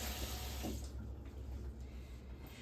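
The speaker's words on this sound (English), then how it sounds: "I'm gonna rinse my fingers off since I did touch those hot peppers with my bare hands." Tap water running steadily into a kitchen sink as fingers are rinsed under the stream, a soft continuous splash with faint shifts in tone, quiet and alone.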